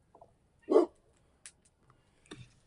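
A single short dog bark sounds at moderate distance, followed by a few faint clicks and a low yip in a quiet room.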